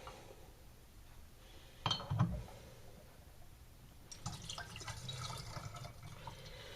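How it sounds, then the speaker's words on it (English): Homemade strawberry wine trickles and splashes into glass bottles in a quiet room, with a brief louder clatter early on, then a steady close pour toward the end. "I'm going to take all of these bottles and fill them up roughly to the neck of the bottle."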